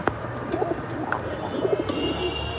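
Pigeons coo softly and repeatedly close by, with several low rolling calls over a steady background hum.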